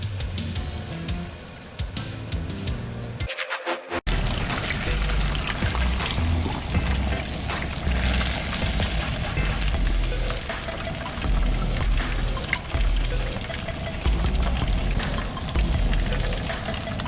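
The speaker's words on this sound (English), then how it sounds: "And then the deep fryer, that's outside." Whole turkey breast deep frying in an outdoor deep fryer, a dense, steady bubbling and hissing of hot oil that surges loudly after a brief quiet gap and then continues close by.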